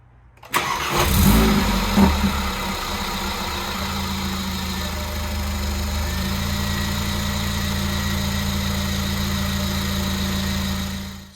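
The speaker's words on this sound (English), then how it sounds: "start the car," A Mercedes CLA45 AMG starts after an oil service with a sharp crank and brief flare near the start, then settles into a steady, even idle that runs close and loud to the end with no talk.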